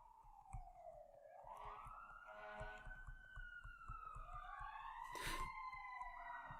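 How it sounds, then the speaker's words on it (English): Emergency vehicle sirens pass outside, wailing and sweeping up and down in pitch, faint and distant at first and growing a little louder, with a brief loud horn blast near the end. "I'm going to pause it for a second so the sirens can go."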